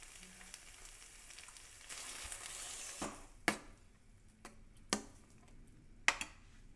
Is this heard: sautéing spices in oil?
yes